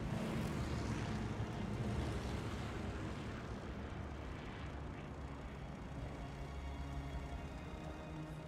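An airplane engine drones in flight in the Call of Duty Vanguard video game, a loud, broad, continuous roar that holds steady with no speech.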